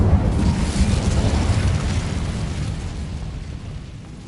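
An Incendio fire spell in Hogwarts Legacy bursts with a loud whooshing blast of flame that roars at first, then slowly fades over a few seconds.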